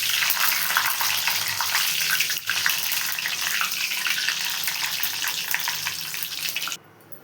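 Tempering for spicy boondi with curry leaves, frying in hot oil with a loud, dense, continuous sizzle and crackle close by, cutting off abruptly near the end.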